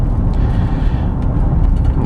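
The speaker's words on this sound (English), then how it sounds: "It sounds like it's the jack or the spare tire tool." Inside a 2011 Chevrolet Silverado 1500 LTZ on the move, a loose jack or spare tire tool behind the seat gives off a faint, irregular metallic rattle over a steady low road rumble.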